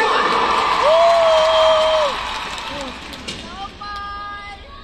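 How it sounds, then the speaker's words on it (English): A fan-meeting audience for Ahn Hyo-seop claps and cheers in a broad crowd roar that swells for about two seconds and then thins. A sustained whistle-like tone and voices run over the noise. "With a big round of applause, everyone. Let's cheer him on."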